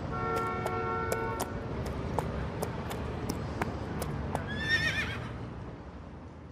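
A police horse in noisy city traffic gives a short, bright whinny near the end, over steady traffic rumble with regular clicking hoof-like clops and car horn toots.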